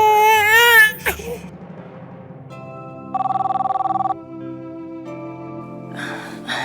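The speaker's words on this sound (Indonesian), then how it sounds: "Papa telepon Tante Mayang ya?" A telephone rings during a call with a short electronic ringtone burst in the middle, amid a crying child and a muffled background hum, followed by faint rustling.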